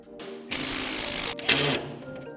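A power screwdriver drives two small screws into the back of a Diamond Back Chiavari chair seat, giving two close whirring bursts, the first longer than the second, with quiet gaps around them.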